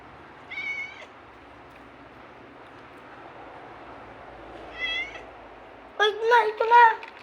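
A cat meows several times over low background noise, with two short mews early on and a louder run of cries near the end. Speech is also present.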